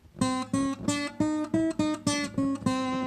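A guitar, just adjusted at the truss rod to cure string buzz, rings out in eight evenly spaced plucked notes, clear and close with no talk.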